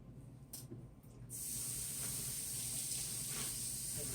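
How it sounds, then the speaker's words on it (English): Tap water running while calf liver is rinsed; after a quiet second, a steady, close hiss of the flowing stream fills the rest. "Take the ends rinsed off a little bit over here."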